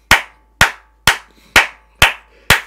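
A congregation at a Thursday family church service gives six sharp, evenly spaced hand claps, about half a second apart, in a steady rhythm with nothing else heard.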